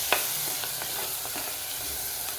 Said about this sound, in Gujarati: હવે આપણે બરાબર એને હલાવશું.